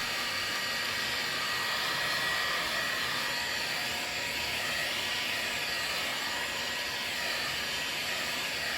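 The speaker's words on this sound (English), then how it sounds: "Then I start gently heating the rest of the film and stretching it to match the shape of the lens." A heat gun blows steadily on tint film being stretched over a C63 headlight lens, a loud, even hissing roar of hot air that holds unchanged from start to finish, close by and alone.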